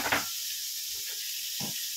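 Meat sizzles in a hot pan while its fat renders out for pancit bihon guisado, a steady close hiss running throughout with a couple of soft low bumps from the pan.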